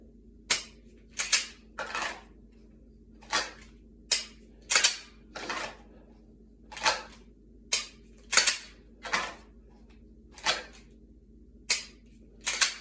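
A pistol's trigger clicks in dry-fire draw practice, about a dozen sharp, isolated mechanical snaps spaced a second or so apart over a low steady hum, close by with no voices.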